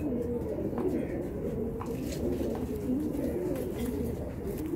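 A pair of dab pigeons coo steadily up close, their low, rolling calls blending into a continuous murmur throughout.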